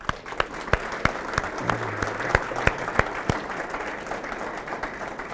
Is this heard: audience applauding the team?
yes